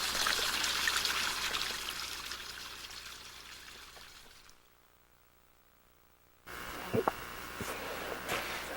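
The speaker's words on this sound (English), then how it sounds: "the little stream of water coming from the adit" A small stream of water trickles out of an old mine adit near a former millsite, a soft continuous hiss that drops away to near silence midway, then returns with a few sharper bumps and handling noises.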